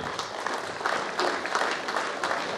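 Sustained audience applause at a memorial inauguration for a fallen soldier at a school, steady dense clapping from a crowd filling the whole stretch at moderate loudness.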